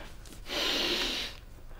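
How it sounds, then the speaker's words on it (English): Close sniff at a paper envelope, one drawn breath of steady airy noise lasting under a second, with no talk. "You can tell just by sniffing the envelope."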